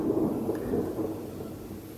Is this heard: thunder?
yes